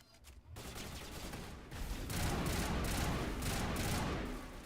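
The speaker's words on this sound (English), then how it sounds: "That's a sniper rifle." Sniper rifle gunfire in the video game Mass Effect comes as a dense run of cracking shots over a rumbling background, fairly faint and quickly repeated, growing busier toward the end.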